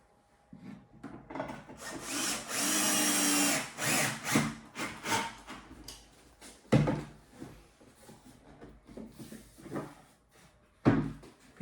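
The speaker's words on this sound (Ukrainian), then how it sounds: "І за допомогою конфірмата з'єднуємо." Confirmat screws are driven with a power drill to join the back panel and side of a wooden drawer: one sustained whirring drive, then knocks, rubbing and clattering of the wooden parts, close and moderately loud.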